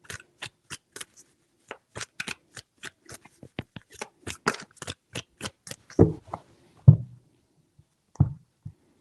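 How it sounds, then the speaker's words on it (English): Tarot cards are shuffled in a rapid run of crisp riffling flicks, followed by a few louder taps and slaps as the deck is squared up; no talking. "3 shuffles."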